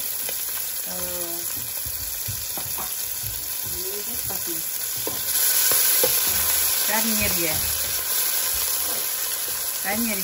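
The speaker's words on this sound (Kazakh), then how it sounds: "Кішкене майдан қыздырып, горох пен кукурузды" Peas and corn fry in hot oil as a side for a Thai-style meat dinner, a steady close sizzle that swells louder midway, with someone talking over it throughout.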